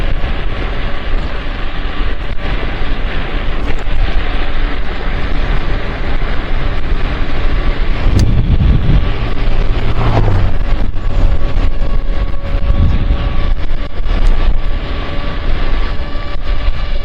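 Loud, constant wind roars and buffets the microphone while an electric scooter motor hums underneath at speed, steady from start to finish with no speech.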